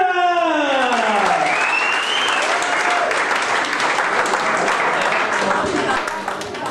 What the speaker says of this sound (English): Let's have a big round of applause for Rob Rivera!